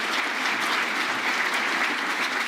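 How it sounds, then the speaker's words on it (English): Audience at a public meet-the-candidates evening giving the candidates another round of applause, a full, even wash of many hands clapping without pause. "I'd like you all to give another round of applause for these fine candidates"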